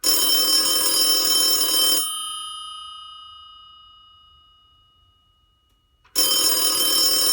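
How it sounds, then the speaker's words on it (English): A telephone bell rings loudly in a long metallic burst, fades into a lingering decay and silence, then bursts into ringing again. "one day I got myself a phone call from Morgana, asking me for help"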